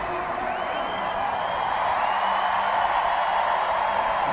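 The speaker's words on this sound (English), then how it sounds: "as we hear this crowd giving the support" Rugby crowd at a Canada versus New Zealand match in Ottawa roars in a steady, loud, broad wash of cheering and whoops that sustains throughout.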